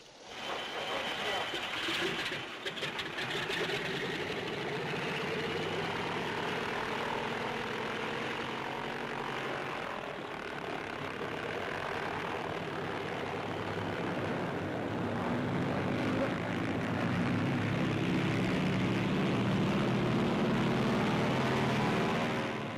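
A WWII tow plane takes off pulling a CG-4A glider on a nylon tow rope, its propeller engines droning loudly and steadily for over twenty seconds, building toward the end, with a voice speaking faintly beneath.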